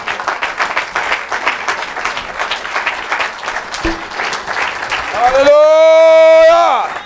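A church congregation applauding to acclaim the Lord during a deliverance service, a dense burst of clapping and cheering voices under a preacher's talk, giving way near the end to a sustained loud tone.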